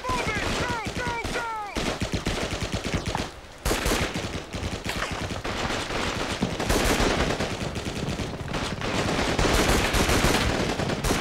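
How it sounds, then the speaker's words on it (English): Sustained machine gun fire rattles in the World War II shooter Call of Duty 2: Big Red One, rapid bursts dense and loud almost throughout, with brief gaps and soldiers' shouts mixed in. "Machine gun! Stay low,"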